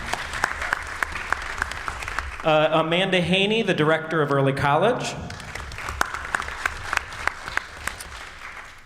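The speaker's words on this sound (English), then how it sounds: "go ahead and applaud for Mick" An audience applauds at a Lorain Academic Distress Commission meeting, with steady scattered hand claps running throughout and a voice speaking over them in the middle.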